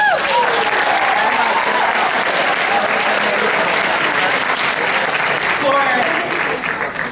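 Sustained audience applause at the KUNA 2012 conference, a dense, steady wash of clapping from a large crowd that continues throughout, with faint voices calling out beneath it.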